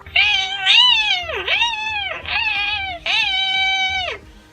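A human voice imitates a cat crying and moaning, with four drawn-out, wavering meow-like wails, close and loud, separated by brief pauses.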